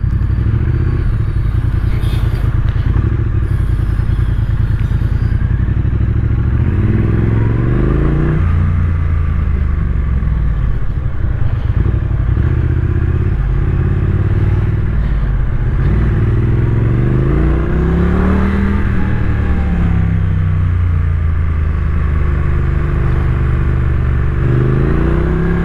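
A Triumph Street Twin two-cylinder motorcycle rides through evening traffic, its engine loud and continuous, rising and falling through repeated revs and gear changes with a steady rumbling growl.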